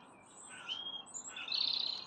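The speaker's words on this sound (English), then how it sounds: "Listen to the birds chirping away." Birds chirp and tweet in short, high calls, moderately near, with a brighter burst of chirping toward the end and no talking.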